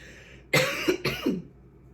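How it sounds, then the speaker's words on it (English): Two quick, harsh coughs close to the microphone, with a quiet room before and after. "my tongue is not burning, I'm fine, but I'm coughing"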